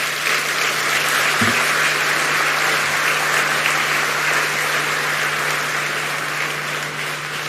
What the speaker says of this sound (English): One more round of applause to all the speakers who have spoken so well